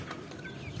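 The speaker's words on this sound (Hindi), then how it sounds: "ये रहा मुर्गे भाई उछाल मारता ये वाला ये बड़ा मुर्गा" Clucking from a large asil rooster in a farmyard, a few short soft calls over steady low background noise, fairly near, with no talk.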